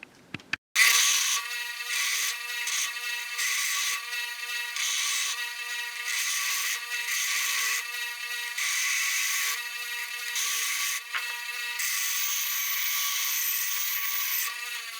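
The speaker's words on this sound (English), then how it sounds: "I'm going to take them to the bench grinder, smooth them down a little bit" A bench grinder smooths forged hammer pieces made from old tie rod ends: a loud, steady high whine that starts abruptly and pulses as metal is pressed against the wheel over several seconds.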